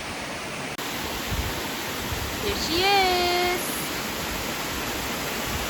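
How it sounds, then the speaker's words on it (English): Steady broadband rush of a waterfall in Japan on a summer hike, a small fall feeding a creek, filling the whole clip at close range; someone briefly speaks over it midway. "But let me show you the waterfall."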